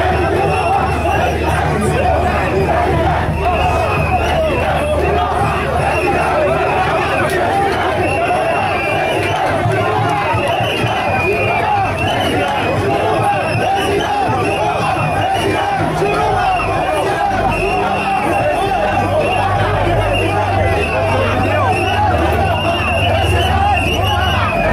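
A large political rally crowd in Douala roars steadily, dense babble and shouting filling the space continuously without a break, loud and close throughout.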